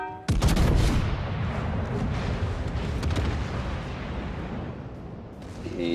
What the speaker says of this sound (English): Torpedoes.